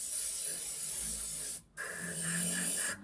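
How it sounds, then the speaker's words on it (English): An airbrush sprays a layer of paint onto a model tank in a steady close hiss that cuts off briefly and resumes, ending with another short stop. "I am going to use an airbrush just because the Dark Reaper is a particular layer colour"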